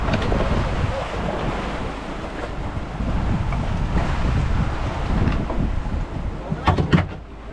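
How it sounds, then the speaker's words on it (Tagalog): Big ocean waves crash against a small fishing boat at sea, a continuous loud roar of surf and water with heavy wind buffeting, a few sharper splashes near the end. "Ang lalaki ng alon, oh, yan oh."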